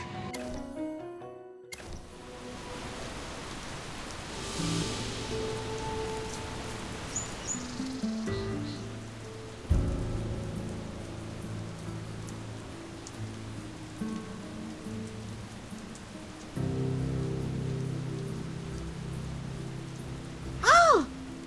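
Rain falling in the fantasy game AFK Journey, a steady soft patter that runs through the scene beneath layered game music and ambience, with a few brief bird-like chirps near the end.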